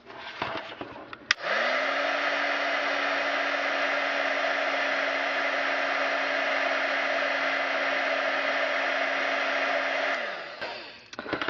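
A heat tool blasts a steady, loud whooshing roar for about nine seconds while reheating embossing powder to set it, starting abruptly after a click and trailing off at the end.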